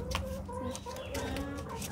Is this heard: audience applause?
no